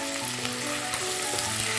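Tomato slices and shallots fry in a hot pan, giving an even, continuous sizzle with faint crackles, close and alone without any voices.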